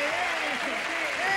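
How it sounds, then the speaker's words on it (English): Steady audience applause fills the room at a blues club party, sustained and even throughout, with faint tonal voices or music lines running beneath the clapping. "let's have a nice round of applause"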